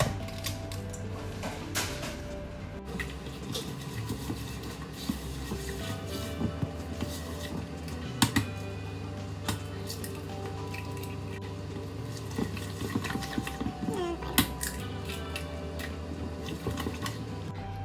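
A mixer blends eggs into crinkle cookie batter, giving a steady mechanical whir with wet squishing and clicking from the bowl, with no talking.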